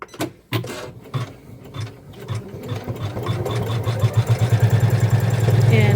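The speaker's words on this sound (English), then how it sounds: "what it's gonna do is stitch another tulip shape" Computerized embroidery machine stitching a tulip outline in a hooped quilting project, starting with a few clicks and then settling into a loud, steady rapid needle rhythm that grows stronger to the end.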